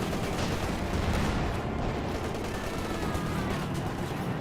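Dense battlefield gunfire and distant explosions roll continuously in a Company of Heroes 2 World War II match, a busy, mid-distance wash of shots and blasts.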